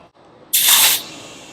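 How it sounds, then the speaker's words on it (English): Short burst of compressed air hissing from an air chuck pressed onto a tire's valve stem, loud and close for about half a second, then trailing off into a quieter hiss. "we'll take the air chuck attached to the hose and put it on the valve stem of the tire"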